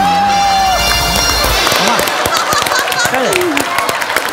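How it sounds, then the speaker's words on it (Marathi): An audience claps and cheers loudly at a comedy stage show, with music fading out beneath it and voices talking over the continuous applause. "टाळ्या थांबू आधी"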